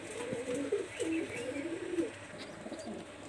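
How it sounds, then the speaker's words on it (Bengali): A Pakistani highflyer teddy pigeon coos in soft, low, repeated throaty phrases, close and unaccompanied by voices. "দেখেন কবুতরটা খুবই মাশাআল্লাহ এবং খুব ভালো ফ্লাইং করে"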